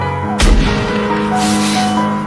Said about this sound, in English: All of a sudden there was a gunshot.